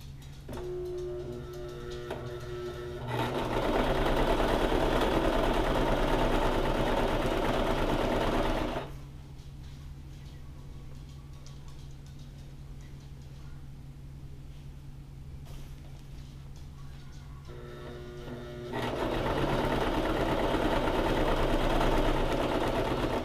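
A sewing machine runs steadily, stitching a long seam on a DIY 30-degree under quilt, with two sustained loud bursts of whirring broken by a quieter stretch of low hum in between.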